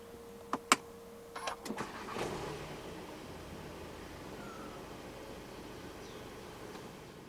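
A 2022 Volkswagen Passat 2.0 TSI R-Line starts up with a couple of sharp clicks and a brief whirring crank, then settles into a quiet, steady idle hum.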